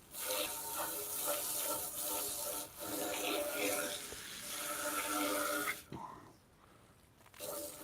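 Running water from a hose washing dust and debris off a boat: a steady, hissing spray with some rubbing, close and fairly loud, cutting out briefly near the end before resuming.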